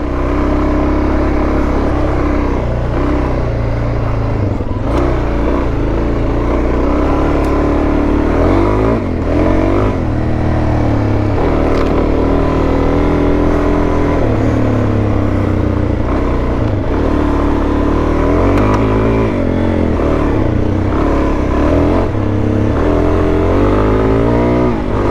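A heavy motorcycle ridden over a rough road, its engine droning loud and continuous with shifting revs and rumbling vibration throughout, no voices.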